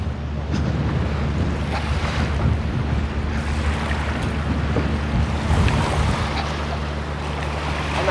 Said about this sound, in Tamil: இதுக்கு இங்கால அப்படியே கடல்.